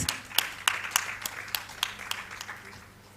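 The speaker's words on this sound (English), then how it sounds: "Let's give it up for India Operations Excellence Leader at Kenview. Please clap for Upasna Kalia," A small audience at a women's summit claps for a speaker being introduced, a sparse run of distinct, fairly close hand claps in a loose rhythm that thins out and fades.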